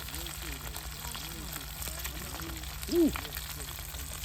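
Oil sizzling in a pan for frying green banana during an outdoor cooking session by a river, a steady soft crackle with chirping birds around and a brief shout from a voice partway through.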